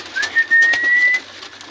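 Racing pigeons call from close by in a loft: one drawn-out whistling coo that rises slightly and holds, with a soft rustle and faint background noise.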